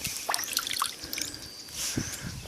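Water drips from a bee waterer outdoors, a few soft, irregular drips and trickles near against a steady background hiss of bees and outdoor air.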